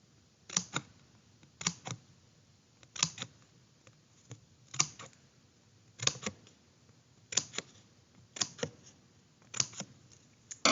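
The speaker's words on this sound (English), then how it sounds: "You're going to make those cuts all the way around." Scissors snip notches into a cardboard loom, a series of short, crisp cuts in quick pairs and clusters repeating at a steady working pace, close and fairly quiet against a hushed background.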